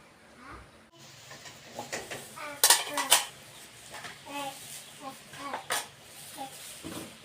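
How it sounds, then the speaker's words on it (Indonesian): Dishes and plates being washed in a cluttered home, with repeated clattering and clinking of crockery and cutlery, sharper bursts in the middle, while voices, including a child's, talk in the background. "mau saya cuci dulu piring-piring ini"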